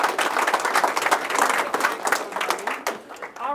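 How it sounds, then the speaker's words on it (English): At a rangeland conservation session, an audience gives presenters a round of applause. The clapping is lively and close, then thins out toward the end as a voice starts speaking over it. "Everybody give them a round of applause."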